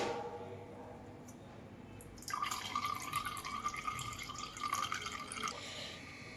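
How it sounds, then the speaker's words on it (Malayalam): Blended star fruit juice strained through a sieve, heard as a steady, close trickle of liquid that starts after a short quiet stretch and keeps dribbling softly. "ഇനി ഞാനിതൊന്ന് അരിച്ചെടുക്കട്ടെ കേട്ടോ."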